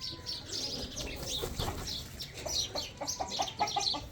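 Rooster and hens clucking and calling on a farm, several birds overlapping in a steady, fairly close chorus with no talk.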